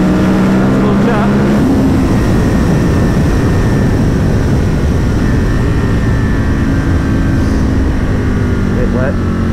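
An Aprilia RSV Mille R motorcycle runs at full throttle on wet Isle of Man roads, a loud, steady engine roar mixed with rushing wind noise that lasts the whole stretch.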